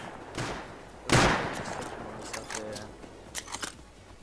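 Gunfire in the Rust multiplayer video game: a loud sharp shot, then a series of fainter scattered shots and clicks over a noisy background.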